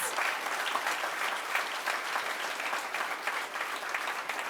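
Steady applause from a crowd of first-year college students at a Rising Black Scholars program, continuous and fairly distant, without a voice over it.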